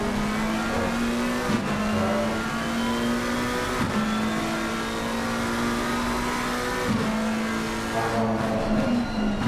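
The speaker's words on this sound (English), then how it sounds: "McLaren does sound good indeed." A McLaren GT race car at the Nürburgring GP circuit, recorded onboard, holds a loud, sustained engine note that rises and falls as it shifts through several gear changes, with no voices.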